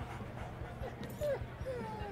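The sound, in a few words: dog barking and whimpering in video game Life is Strange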